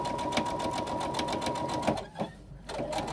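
A sewing machine stitches a 3/8-inch seam on a wristlet, running close with a fast, even mechanical chatter that stops short before the end with a soft click.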